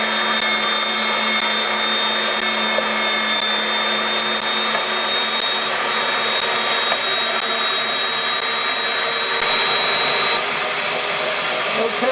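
An electric tomato juicer presses fresh tomatoes with a steady, loud mechanical whir and hum that holds unbroken throughout, with no talking.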